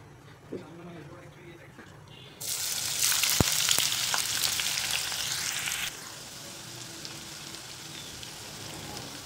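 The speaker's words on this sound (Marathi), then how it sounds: "तेल छान तापले, त्यामध्ये आपल्याला आता थोडा थोडा टाकून कांदा तळून घ्यायचा आहे" Sliced onions dropped into hot oil in a pan over a full flame for veg dum biryani, erupting into a loud, dense sizzle that later settles into a steadier, quieter frying hiss.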